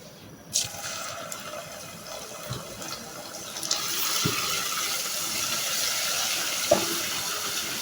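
Garlic-ginger paste drops into hot oil in a cooking pot and sizzles in a steady hiss, with a few soft clinks from the pot; no talking.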